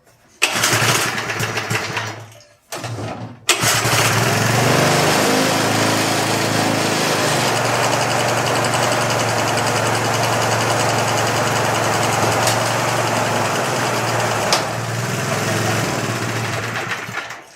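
A vintage reel lawn mower engine sputters briefly, cuts out, then starts and settles into a loud steady running drone, with people talking over it at the start.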